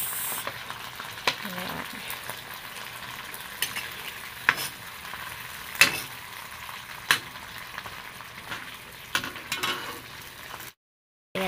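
Sardines sizzle in a pan while being stirred, a steady close frying hiss broken by scattered sharp scrapes and clacks of the utensil, with a brief spoken word near the end.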